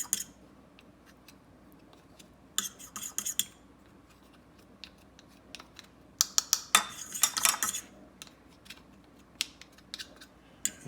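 A spoon clinks and scrapes in a bowl while cornstarch is stirred in, coming in quick bursts of close metallic taps separated by quieter pauses.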